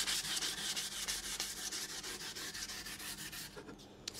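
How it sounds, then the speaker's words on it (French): Rapid rhythmic rubbing of 500-grit sandpaper over motorcycle parts such as fenders and bumpers, a steady close scratchy back-and-forth sanding that runs continuously and alone, easing briefly near the end. "Sinon, c'est du ponçage au 500"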